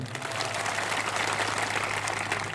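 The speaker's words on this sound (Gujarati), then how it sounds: "બધા માટે એકવાર જોરદાર તાળીઓ પાડી લઈએ આપણે" Crowd at an outdoor political rally in Nasvadi, Gujarat, applauding steadily with dense, sustained clapping, broad and fairly loud throughout without clear breaks, a low steady hum running underneath.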